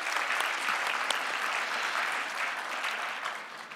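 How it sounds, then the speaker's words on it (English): A seminar audience claps for volunteers in an even, sustained round of applause at moderate volume, with no voices heard over it, easing off slightly toward the end. "another round of applause for these brave people"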